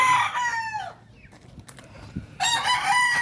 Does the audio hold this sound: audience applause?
no